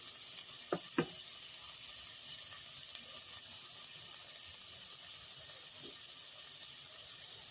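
Ingredients for corn chowder sizzle steadily in a pot as they cook down and caramelize, a soft continuous hiss with two brief knocks near the start and no talking.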